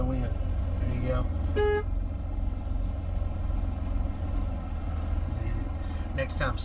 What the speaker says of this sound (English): You want to honk your horn when you go in.